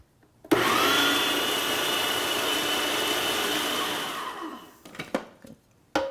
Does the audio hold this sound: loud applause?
no